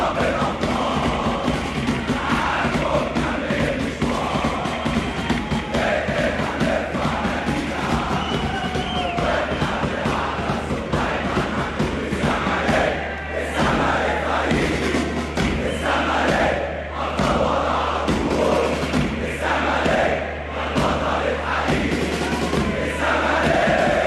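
Zamalek football fans in Egyptian stadium stands chant "Ansur ya Rab" together, a loud, rhythmic mass of voices with crowd roar and cheering sustained throughout.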